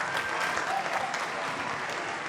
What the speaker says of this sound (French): Les gars, applaudissez pour lui, s'il vous plaît.